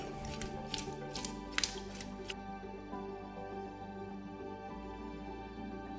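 Sharp scissors snip a fin off a scaled, gutted snapper, making a few quick crisp cutting clicks up close in the first couple of seconds, then a quieter steady background hum.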